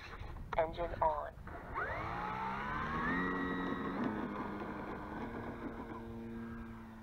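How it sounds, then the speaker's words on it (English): An engine starting up on a small remote-controlled vehicle, rising from a whine into a steady droning run with harmonic tones climbing and then holding, preceded by brief voices. "Engine on"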